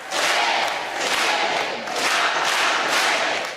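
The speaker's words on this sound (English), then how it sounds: "the crowd erupting into cheers when they see the Pope." A crowd at Sacred Heart Church in McAllen, Texas, on the U.S.-Mexico border erupts in loud, sustained cheering and shouting at the sight of Pope Francis, swelling in repeated waves.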